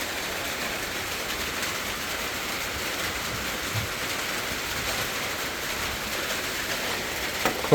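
Rain falls at midday in a steady, even hiss that stays moderate and unbroken throughout, with no voices.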